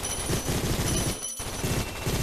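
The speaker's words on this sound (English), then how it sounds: "The submachine gun." Submachine gun in the video game Gun Raiders fires in rapid continuous bursts, loud and close, with a brief pause in the middle before the automatic fire resumes.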